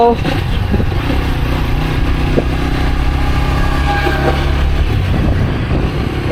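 A motorcycle ridden along a road gives a steady, loud engine drone with a constant low rumble throughout, and the engine tone shifts slightly at moments.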